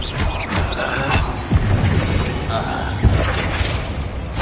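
Blasting curse cast in Hogwarts Legacy, landing as two dull booming bursts with crackling debris over a busy backdrop of battle noise.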